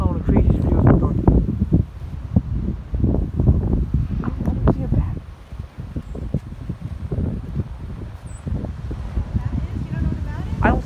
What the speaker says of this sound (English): All I know is windy and it's like hail.